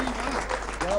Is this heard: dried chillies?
no